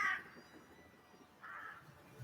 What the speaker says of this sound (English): Flies swarmed in thick clouds, and crows cawed in a deafening cacophony.